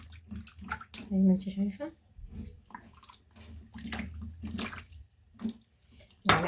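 Flour and salt are worked into water by hand for a baked catfish casserole, making soft splashing and squelching sounds in short bursts while a person talks throughout.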